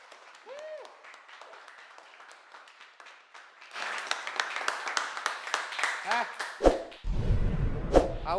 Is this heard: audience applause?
yes